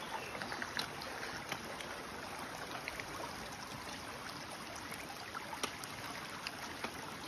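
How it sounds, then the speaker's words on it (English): A small stream at a hiking trail water crossing on Mt. Tecumseh, a steady close rushing babble of water with scattered small splashes and clicks throughout. "We just started and we have this small water crossing."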